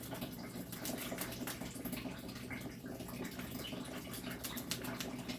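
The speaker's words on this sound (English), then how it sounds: "I'm using water with a tap" Water runs steadily from a tap fed by an artesian well, a continuous close splashing rush that stays even for the whole stretch with no voices.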